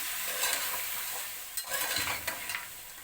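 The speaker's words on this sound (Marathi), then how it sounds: "हे भिजवलेले शेंगदाणे आहेत आणि ही वांगी हे चांगलं मिक्स करून घ्यायचं चांगलं परतून घ्यायचं" Soaked peanuts and eggplant sautéing in a pan, a soft, fairly faint sizzle with spatula scrapes and light clinks of utensil against metal, strokes bunching up toward the end.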